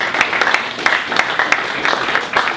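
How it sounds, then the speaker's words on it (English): Audience applause at a holiday pitch competition, a steady dense wash of many hands clapping for the full stretch with small bursts, moderately loud and with no voice over it. "Let's give them a round of applause."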